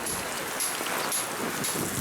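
Steady hiss of rain mixed with gusting wind buffeting the microphone, continuous and fairly loud throughout.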